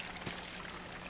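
Steady rushing of falling water in the video game Salt and Sanctuary, a continuous broadband wash with a brief swell early on, no voices.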